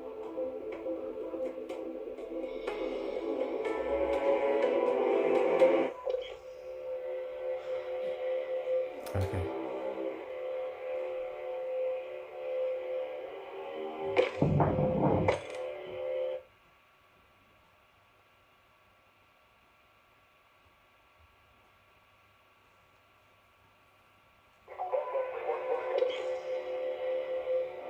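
Video game sound from a Call of Duty-style Domination match plays through a FunFlix G1 Mini 1080P projector speaker at full volume, with steady noisy audio, a few bursts, then near silence before resuming.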